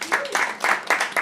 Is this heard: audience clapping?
yes